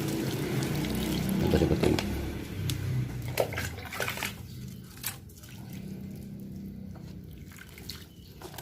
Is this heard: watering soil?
yes